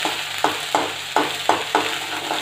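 Grated ginger and chopped green chilies sizzle in hot oil in a pan, a steady frying hiss broken by six rhythmic spatula scrapes and taps as the mixture is stirred.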